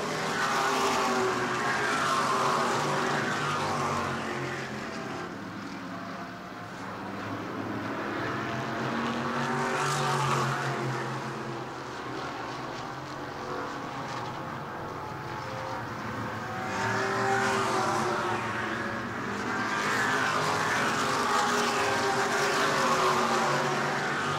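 E-Mod race cars roar around the New Smyrna track, engine noise swelling and fading as packs of cars pass, with no talking.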